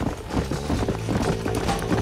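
A horse gallops in the Red Dead Redemption video game, its hooves making a fast, steady clip-clop rhythm that sounds close and fairly loud, with no talking over it.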